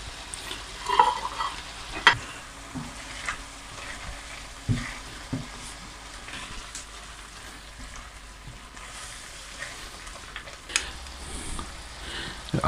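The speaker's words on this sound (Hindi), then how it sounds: "अब इनको हल्का सा भून लेते हैं।" Spices including paprika and turmeric fry lightly in oil for beef keema karahi, a soft steady sizzle under repeated clinking and scraping stirs of a spoon against the pan, with no voices.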